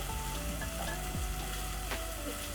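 Onions frying in a pan for a Kenyan omena dish give a steady, close sizzle that carries through without break, with a few faint clinks and no voices.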